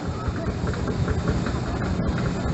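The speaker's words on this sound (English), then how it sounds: "Only 7 horsepower mind you, and it's driven by steam, and the steam's created by the wood" A small 7-horsepower wood-fired steam engine running steadily at an outdoor restoration rally, giving a loud, continuous chuffing rumble with a faint rhythmic beat, close to the microphone.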